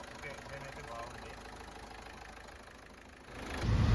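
A 2014 Ford EcoSport idles with a steady low engine hum, and the rumble swells louder near the end while a person speaks over it.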